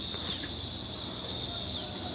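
A cricket chirps among bamboo outdoors, a steady shrill trill that runs unbroken and fairly loud throughout.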